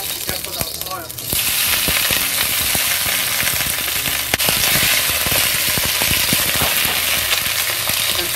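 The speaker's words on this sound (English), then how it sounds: "And fry the spinach." Spinach fries in hot vegetable oil over high heat, opening with a softer hiss before a loud, dense, steady sizzle with crackles takes over and holds close up to the end.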